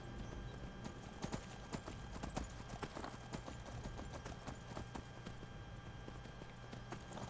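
Shadowmere, a horse in Skyrim on PS4, clip-clops along at a steady gallop, crisp hoof strikes over a low ambient bed, fairly close and continuous.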